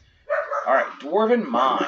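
A pet dog barks and yips indoors close to the mic, a few short loud barks with a whimpering edge, overlapping someone talking.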